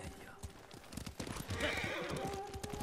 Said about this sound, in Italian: Andiamo, andiamo, chiamiamo il cavallo.